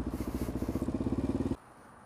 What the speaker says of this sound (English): Hey, cool bike. Let me hear it run.